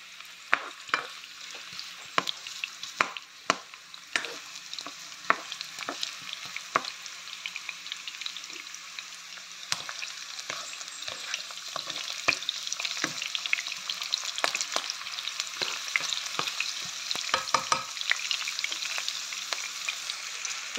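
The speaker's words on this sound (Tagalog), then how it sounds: "igigisa na natin, unahin natin ang sibuyas, no? Mainit na kasi siya kaya tinisting ko." Onions sauté in a hot pan for a pork liver apritada. There is a steady, crackling sizzle, broken by frequent sharp clicks and scrapes of stirring that grow busier toward the end.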